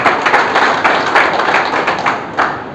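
An audience at a seminar claps for the program organiser, a dense, loud and steady round of applause with a few sharper claps standing out throughout.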